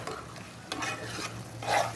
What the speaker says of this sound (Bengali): এখন এটাকে আমি একটু নেড়ে নেড়ে আর একটু ভাজা ভাজা করব